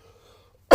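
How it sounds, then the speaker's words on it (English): A single sharp cough at the end of a quiet moment, close and fairly loud after near silence. "Wow, we had a cough."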